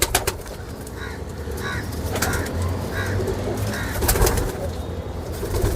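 Pigeons of an old Kamagar and Teddy bloodline coo in a loft, a series of about five soft rolling coos spaced roughly a second apart, fairly close and steady against a low hum.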